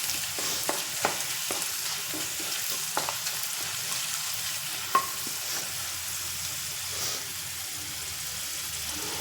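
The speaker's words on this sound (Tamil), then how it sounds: "கொஞ்சம் பூண்டு வதங்கட்டும்." Garlic sautéing in a pan on a stove for aapam and onion thokku, a steady soft sizzle with occasional stirring clicks and scrapes of a utensil, fairly quiet and continuous, no talking.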